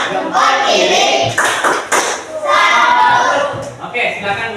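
A group claps together in a dense burst of taps and slaps in a classroom, with children's voices mixed in near the middle.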